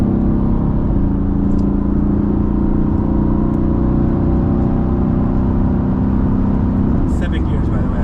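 A tuned 2017 Mercedes-AMG GT with upgraded turbos and a seven-gear transmission gives off a steady, loud engine roar and drone throughout, with a brief lighter rise near the end.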